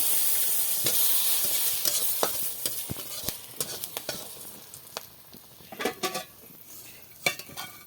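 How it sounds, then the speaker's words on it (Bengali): Dry red chillies fry in a pan for a Bengali pabda fish curry, with a loud sizzle at first that fades while a utensil scrapes and clinks against the pan in scattered knocks. "শুকনো লঙ্কাকে এবার একটু ভেজে নেব"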